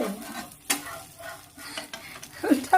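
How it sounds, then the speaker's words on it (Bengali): An omelette frying together with bread in a pan, giving a soft, close sizzle broken by a few spatula scrapes and stirring clicks. "এখন হচ্ছে এই যে অমলেট, এটা ওর ব্রেডের সঙ্গে ভাজা হচ্ছে"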